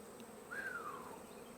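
Honey bees buzzing at an open hive during late-summer inspection, a close steady hum with one bee's pitch rising and falling as it flies past, no voices.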